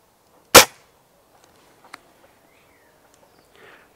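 A single sharp, loud shot from a Hatsan 900x Breaker air rifle cracks out early and decays quickly, followed by faint small clicks and handling noises in an otherwise quiet setting.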